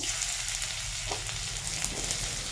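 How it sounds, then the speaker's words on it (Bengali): Cut bitter gourd pieces drop into hot oil and fry with a loud, close crackling sizzle. A couple of light stirring knocks sound under the frying, and nobody speaks. "কেটে রাখা উচ্ছেগুলো আমার গরম তেলে দিয়ে দিচ্ছি দেখুন"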